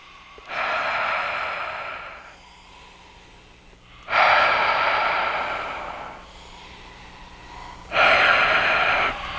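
Three slow, deep breaths taken during a guided meditation, each a long airy rush that swells and fades, heard close and clear with quiet pauses between them.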